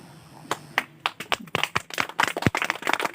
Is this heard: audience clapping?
yes